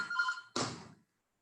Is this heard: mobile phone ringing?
yes